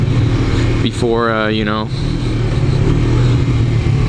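A cruiser motorcycle engine idles loud and close, then pulls away from a stop sign with a rising, wavering whine, while a voice talks over the steady rumble.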